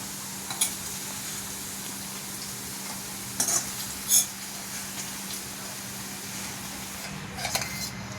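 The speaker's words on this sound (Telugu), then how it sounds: "ఇప్పుడు నెయ్యి వేసుకొని టమాటో ఇంకా ఆనియన్ వేసేసుకొని ఫ్రై చేసుకోవాలి కొంచెం." Tomato and onion frying in ghee for paneer butter masala, a steady low sizzle running throughout with a few sharper clinks and scrapes of stirring near the middle and end.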